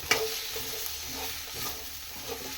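Vegetable kurma being stirred in a pan, a soft continuous sizzle with a light clink at the start and gentle scraping, quiet and close, without any voices.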